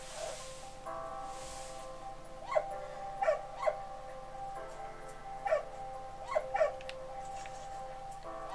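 In the Valiant Hearts video game, a dog caught in barbed wire whimpers and yips faintly, several short cries scattered over a steady tonal game music bed.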